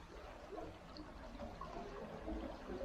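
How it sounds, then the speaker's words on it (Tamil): Faint water trickles and drips down rock inside a cave, a soft continuous wet murmur with no voices. "தெரியுதா தண்ணி வடிகிறது."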